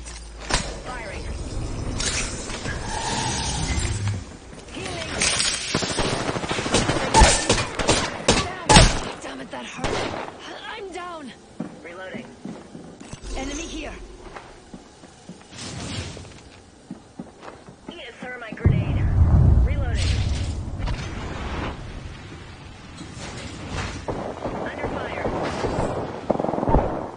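Apex Legends gunfire cracks out in clustered bursts mixed with rumbling impacts and footsteps, while character voices talk over the fighting at several points.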